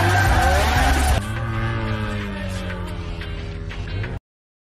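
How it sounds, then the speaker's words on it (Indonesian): A car drifts at night in a film scene, its tires screeching in long, pitch-shifting wails over a steady engine roar. The sound is loud and sustained for several seconds, then cuts off abruptly. "Han menunjukkan skill driftingnya di depan ciwi-ciwi agar mendapatkan nomor mereka"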